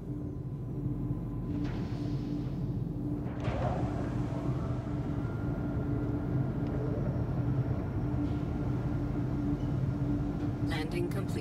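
A spacecraft sets down in a video game during a cargo box mission, with a constant low engine rumble and drone running underneath, a voice talking over it, and a few light clicks at the end.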